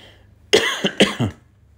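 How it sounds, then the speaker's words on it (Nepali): A person coughs three or four times in quick succession, close and fairly loud, after a moment of near silence. "अलिकति खोकी पनि लागेको छ।"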